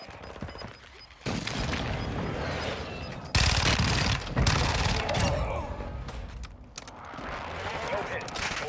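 Heavy airstrike explosions and rolling gunfire in the video game Warzone 2, with loud booming bursts and a fusillade of shots, and radio-style voices mixed into the battle.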